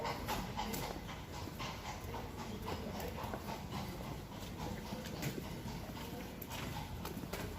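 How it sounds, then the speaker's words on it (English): Horses' hooves clip-clop steadily past on a street in Bruges, a continuous rhythmic clatter close by over a constant background rumble of outdoor noise. "And more horses"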